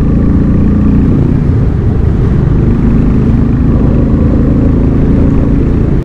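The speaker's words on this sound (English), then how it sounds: "This is a little sophisticated thump, a little smoother thump, less mechanical and feels more refined." Harley-Davidson motorcycle engine running steadily at speed, a continuous loud low thumping drone with no break from start to end.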